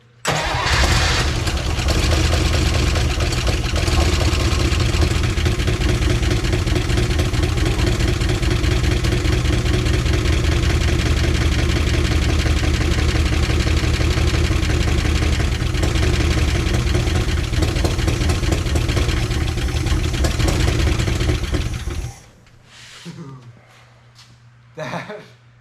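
A 1955 DeSoto Firedome engine, being started for the first time in decades, runs at a steady loud idle for over twenty seconds, then cuts off, leaving brief voices and clicks.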